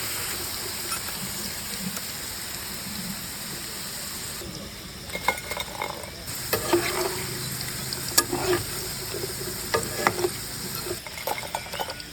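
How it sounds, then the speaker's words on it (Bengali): Homemade potato French fries crackle in hot oil, a steady bubbling fry that gives way midway to sharper clinks and scrapes as the crisp fries are lifted out, close and unaccompanied by speech. "আমার ফ্রেঞ্চ ফ্রাই ভাজা হয়ে গেল, এখন আমি এটা তুলে নেব"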